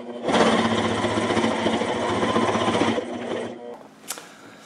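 Sewing machine stitching a nametape onto a camouflage patrol cap, a loud, close mechanical whirring run lasting about three seconds, then slowing and stopping, followed by a brief click.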